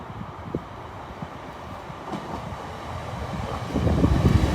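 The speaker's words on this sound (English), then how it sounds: "Approaching platform 2 is the 1219 LNER Azuma for Peterborough and London King's Cross." An LNER Azuma train approaches platform 2 at Newark Northgate, a low rumbling roll with occasional clunks that grows steadily louder as it nears.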